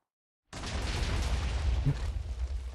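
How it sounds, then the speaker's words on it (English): A small explosion goes off in a modded Minecraft game with a Jujutsu Kaisen Limitless power. A sudden burst starts after half a second of silence and becomes a sustained, rumbling crackle that stays loud and close. "A very small explosion."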